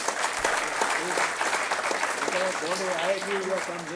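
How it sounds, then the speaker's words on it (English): Audience at an academic event applauds a visiting professor, a dense, steady wash of clapping filling the room throughout, with a voice speaking over it in the second half. "Please give him a big applause."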